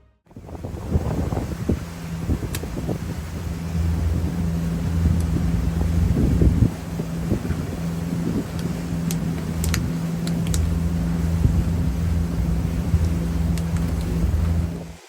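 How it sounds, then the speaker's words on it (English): Strong wind buffeting the microphone at the seashore, with surf washing beneath it, a continuous loud rumbling roar and gusty bursts across the whole stretch, no voices heard. "It's really windy here"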